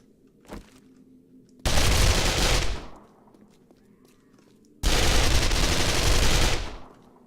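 Dual-wielded guns fire in two long, loud, continuous automatic bursts while gunzerking in the 7 Days to Die BorderlandZ mod, each burst lasting over a second, after a single faint shot at the start.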